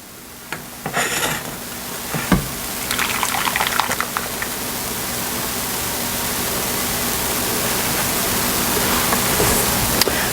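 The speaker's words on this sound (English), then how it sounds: "And so now I'm going to pour it into my pie plate." Coconut pie filling from a blender pours into a pie plate in a steady, rising liquid rush after a few soft clatters, continuing unbroken to the end.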